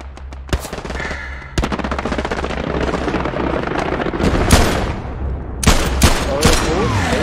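Gunfire in the World War II shooter Hell Let Loose: rapid bursts and single sharp shots, some close and loud and others distant, in a dense battle soundscape with a low steady rumble underneath.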